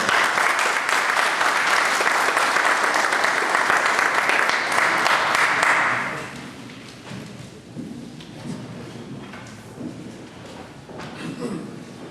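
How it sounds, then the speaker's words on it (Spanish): Loud applause from a crowd at a legal lecture on criminal appeals for about six seconds, then it fades into murmuring room noise and scattered voices. "Brindémosles un fuerte aplauso a la doctora."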